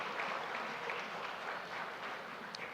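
Audience applause at a stock exchange anniversary conference, a steady wash of clapping hands from a crowd, fairly soft and distant, continuing throughout.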